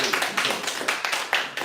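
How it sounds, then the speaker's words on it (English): Steady applause from a small group at a real estate investment seminar, dense overlapping claps at moderate loudness. "a round of applause for James."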